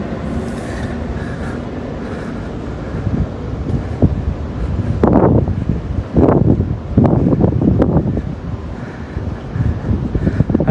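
Strong wind gusting outdoors near Osaka Dome, roaring and buffeting across the microphone in uneven surges that swell louder toward the end, with no talking.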